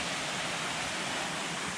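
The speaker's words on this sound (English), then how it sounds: "there's a really nice waterfall that you can see from on the trail right here" A waterfall cascades down a brook beside a hiking trail in the New Hampshire mountains, giving a dense, even rushing hiss that stays steady and fairly close throughout, with no voices.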